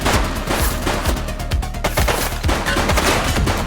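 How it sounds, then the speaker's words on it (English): Rapid gunfire in The Precinct video game, a police shootout where a fleeing suspect opens fire. Loud, close, repeated shots and bursts run continuously with a booming low end, and no voices are heard over them. "He's shooting!"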